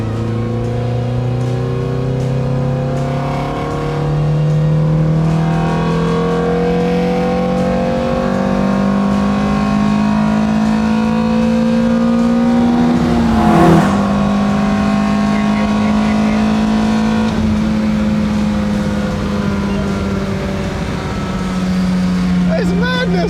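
A Honda S2000 engine revs hard in third gear and climbs steadily in pitch under full acceleration, loud and close, with a brief shift-like blip midway.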